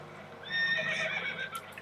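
A spooked horse whinnies loudly in Red Dead Redemption 2 aboard a damaged boat taking on water, one long, close, shrill neigh trailing off into quieter breaths.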